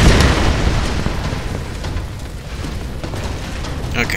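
Deep rumbling explosions roll through the geothermal caverns in the Tomb Raider video game, a sustained loud boom and crackle filling the whole clip with no clear break, a brief sharper burst near the end.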